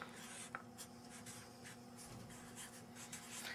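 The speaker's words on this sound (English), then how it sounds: "I'm not sure what color I want to write with today." Pen strokes scratching across a chart in a quiet room, a steady run of soft rubbing marks with small taps, close and faint, with no talk.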